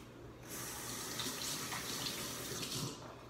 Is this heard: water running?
yes